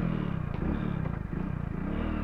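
A Hero Splendor Plus motorcycle engine runs steadily in first gear, a close, loud, low throbbing drone with a faint clattery edge and slight shifts in pitch as it pulls.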